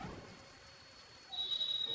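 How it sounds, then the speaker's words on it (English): Sudden rain falling in a Thai TV drama scene, a soft steady hiss that swells louder after a moment, heard alone without voices. "Why it start raining suddenly?"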